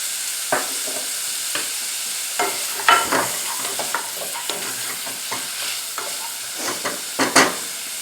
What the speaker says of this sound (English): We're going to let that cook for a couple of minutes and let those onions soften.